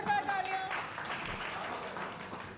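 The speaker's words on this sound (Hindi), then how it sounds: "जोरदार तालियां।" Audience applause fills a lively evening awards gathering with open-mic performances, a steady wash of clapping running the whole length at moderate loudness, with a few sustained tones near the start.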